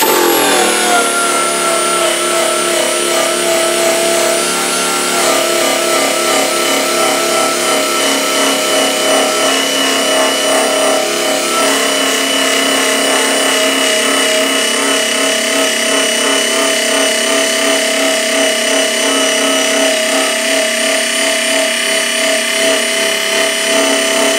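A loud electric machine strips old pinstripes from a car's painted body, producing a continuous close, high, whirring drone that holds steady and alone for the whole stretch without pause.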